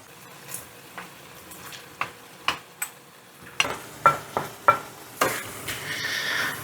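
Chopped grapes being stirred into grape pickle gravy in a pan: a series of distinct scraping strokes, roughly one every half second, with a gentle sizzle underneath that grows fuller toward the end.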